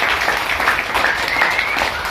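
An audience at an Arya Samaj festival gathering claps, a steady dense wash of applause from many hands, moderately loud and even throughout with no talk over it.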